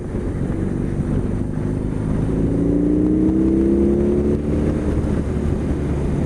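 A 2021 BMW R18 First Edition motorcycle engine pulls hard in second gear, a steady deep low-pitched drone that climbs gradually in pitch with rising revs, loud and continuous against constant wind rush, no talk.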